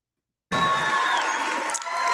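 Crowd cheering at a rally, bursting in suddenly after silence and holding as a loud, continuous roar of voices with a high sustained tone running through it.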